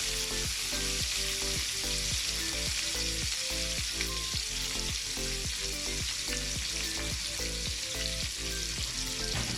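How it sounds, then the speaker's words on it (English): Sliced onions, a jalapeño and a large green pepper with a rosemary stem fry and get stirred in a pan, a loud constant sizzle with rhythmic utensil scrapes repeating roughly every half second, no speech. "So I'm just going to mix this until it gets lightly brown."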